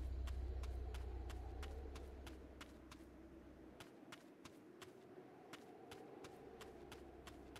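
Electric car engine in the survival game Dysterra, a steady low motor hum that fades slightly after the first couple of seconds, with faint regular clicking ticks over it and no talk.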